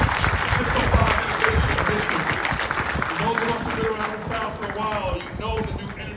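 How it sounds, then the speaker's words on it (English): Applause fills the room at a launch event for the 605 Innovation District: a dense, steady stretch of clapping from a crowd that holds strong throughout, with a voice speaking over it toward the end. "Another big round of applause"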